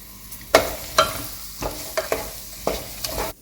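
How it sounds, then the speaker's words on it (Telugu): Soya chunk mixture stirred in a pan for a veg biryani, with repeated clattering scrapes of a spoon against the pan over a soft background, and no talking. "అన్నీ బాగా కలుపుకోవాలి"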